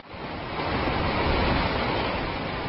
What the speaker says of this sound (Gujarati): જૂજ ડેમ ઓવરફ્લો થયો છે